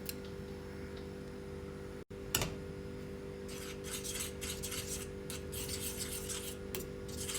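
Béchamel sauce with coarse black pepper being stirred in a pan, a soft scraping rasp of the spoon with light repeated ticks against the pot, quiet and close, no talking.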